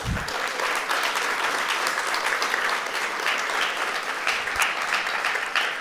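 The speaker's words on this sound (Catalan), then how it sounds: "Un fort aplaudiment per tots vosaltres." Sustained audience applause at a Catalan school gala, dense clapping from a large crowd holding steady and loud throughout.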